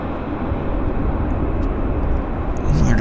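Aircraft swinging through a hard turn on a taxiway at Vancouver YVR on a misty morning, giving a steady, broad engine rumble and roar held at an even level throughout.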